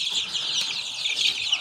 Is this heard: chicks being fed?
yes